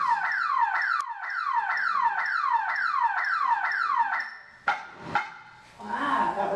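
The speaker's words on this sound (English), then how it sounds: "Wow, that was loud. It's an alarm." A car alarm blares at a Universal Studios Orlando horror and makeup show, looping a loud, rising chirp-sweep pattern about eight times before cutting off abruptly, followed by a few sharp thumps and a burst of voices.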